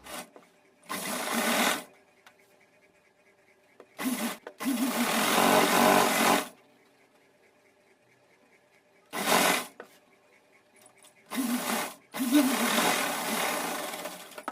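A sewing machine stitches three sides of a cotton dress lining in several short, close whirring bursts separated by silent pauses, the runs growing longer toward the end.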